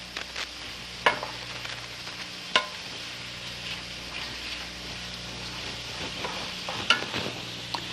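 Black peppercorns stirred into a seafood dish in a pan, with a steady low sizzle and a few sharp scraping knocks of the spoon against the pan.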